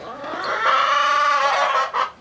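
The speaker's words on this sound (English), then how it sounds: "This is my other set of chickens in here." A chicken clucks close by inside a farm building, one drawn-out warbling call followed by a short second cluck.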